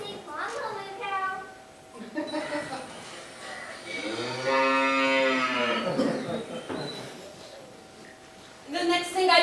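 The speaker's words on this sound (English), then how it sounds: "Hey, Bessie, come on, little moo cow" A cow named Bessie gives a long, loud, drawn-out moo in the middle of the clip, with people talking before and after it.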